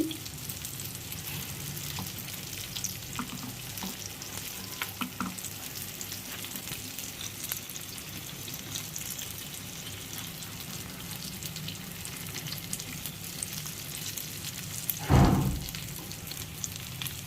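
Fish fries in oil in a pan with a steady, close sizzle and crackle throughout, broken near the end by a brief louder scrape or clatter.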